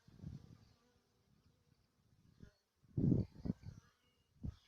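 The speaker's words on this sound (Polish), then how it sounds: "Pszczoły ruszyły na pożytki." Faint buzzing of honey bees at an apiary comes and goes in brief bursts, quiet and somewhat distant, with soft low rustling between them.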